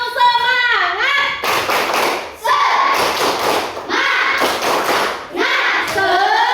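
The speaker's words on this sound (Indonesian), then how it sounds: "tepuk semangat dulu ya. Kayak gini tepuk semangat ya." A classroom of children performs a rhythmic spirit clap led by a teacher, with loud bursts of group clapping in several sharp rounds, alternating with a voice and children's voices speaking between them.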